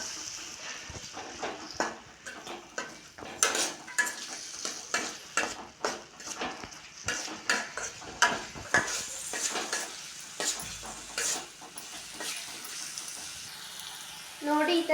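Mint rice with tamarind juice is fried and stirred in a pan, heard as a soft sizzle beneath repeated scraping and knocking of a spoon against the pot in irregular strokes.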